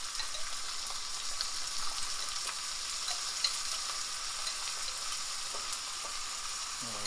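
Steady crackling sizzle of spaghetti sauce cooking in a hot frying pan, with faint scraping from stirring, continuous and close throughout.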